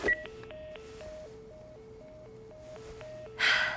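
A telephone is dialed in The Last of Us video game: a short series of quiet alternating tones step up and down in a steady rhythm, ending with a brief burst of noise.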